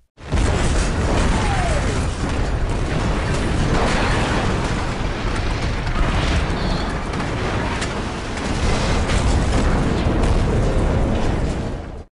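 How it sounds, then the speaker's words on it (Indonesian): A petrol tank blows up in an action film, a long, loud roaring blast with crackling debris that fills the whole stretch without letup and swells again near the end. "Morgan menembak tangki bensin hingga meledak hebat"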